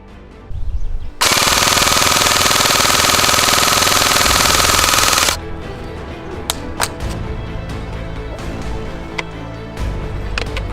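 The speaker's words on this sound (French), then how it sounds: "Bon en full ça tire tout" An LCT AK airsoft rifle fires full auto in one loud, continuous burst lasting about four seconds, a dense rapid mechanical rattle up close, followed by quieter handling clicks and clacks.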